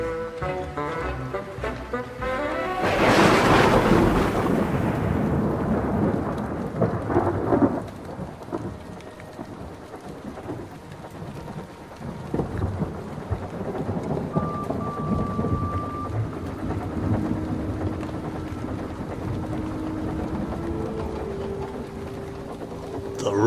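A loud thunderclap bursts in a few seconds into steady rain, followed by a long rolling rumble that fades while rain keeps falling on surfaces.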